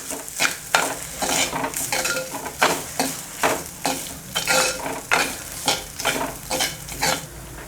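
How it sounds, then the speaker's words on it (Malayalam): Drumstick leaves thoran being stirred in a pan over a low flame, a rhythmic series of scraping strokes with a spatula over a gentle sizzle, close and fairly loud, with no voices. "ഇളക്കി കൊടുക്കാവേ. ലോ ഫ്ലെയിമിൽ വെച്ച് കൊടുത്താൽ മതി."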